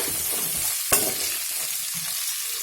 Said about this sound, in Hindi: ये सारे वेजिटेबल्स फ्राई होने के लिए ज़्यादा टाइम नहीं लेते हैं